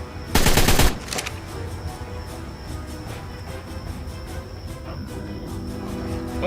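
Rapid automatic gunfire from a weapon shooting dinosaurs in the video game Ark: Ragnarok, a loud burst near the start, then quieter distant repeating shots and clicking over a low ambient game drone.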